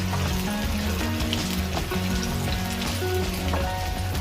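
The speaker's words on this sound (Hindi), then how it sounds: "तो प्याज को भी इतना फ्राई करेंगे कि इसका कलर खाली लाइट बादामी जैसा हो जाए" Onions fry steadily in oil in a pan for a masala made with goat brain, giving a loud, continuous crackling sizzle that holds even throughout, with no voices.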